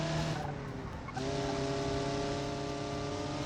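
A truck in the video game BeamNG brakes hard, its tires squealing in a sustained skid over a steady engine drone, with a brief dip in the noise near the start.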